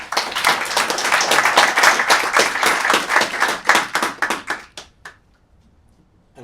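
Conference audience bursts into applause, a lively patter of clapping from a modest crowd that carries for several seconds, then thins into a few scattered final claps and stops. A short spoken word comes at the very start.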